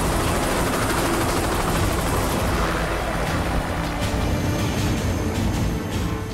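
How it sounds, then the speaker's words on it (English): A helicopter near the North Pole drones loud and close, its continuous rotor roar and engine noise filling the whole stretch while a voice speaks faintly beneath. "Once the helicopter has dropped him on the ice"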